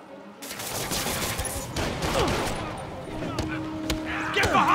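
Gunfire in Marvel's Spider-Man Remastered on PC: a sustained, crackling fusillade of shots with scattered impacts and whooshes, loud and continuous under game effects.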